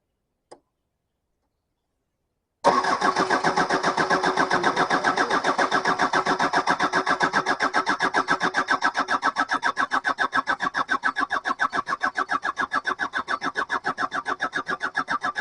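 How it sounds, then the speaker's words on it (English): Starter motor cranking a diesel engine with the ignition on, a fast, even rhythmic churning that starts suddenly after a brief click and continues steadily for over twelve seconds without the engine catching. "Starter motor was well impressed with that"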